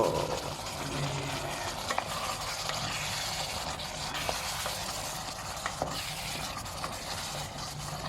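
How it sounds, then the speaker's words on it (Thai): Beef chili curry paste stir-fry simmering in a pan, a steady soft bubbling and sizzling with occasional faint clinks, continuous and close with no talking. "นี่ก็เริ่มเดือดแบบพุดๆๆๆเลยดูดิ"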